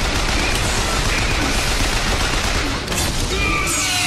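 Sustained, dense gunfire from a gun in Bioshock Infinite, a steady loud roar of rapid shots that fills the whole stretch without a break.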